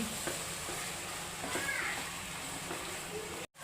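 Chicken curry ingredients fry in a pan with a steady, fairly quiet sizzle while being stirred, with light scraping touches and a brief drop near the end.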